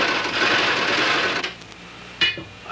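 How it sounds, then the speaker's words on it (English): Sewing machine running steadily as it stitches rows of stitching on shoe vamps and counters, a continuous close hum for about a second and a half, then it stops and a few light clicks and handling noises follow. "At this time I normally go ahead and put my 3 rows on, so I'll go ahead and finish the sewing on them."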